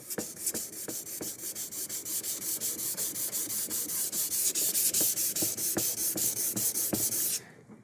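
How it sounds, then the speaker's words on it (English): Cold-checked lacquer finish being dry-sanded with 3M 600-grit paper on a sanding block, a close, rhythmic rasping of back-and-forth strokes that runs steadily for about seven seconds before stopping abruptly. "What I'm going to use is the 3M dry paper, and I'm going to start at piece 600."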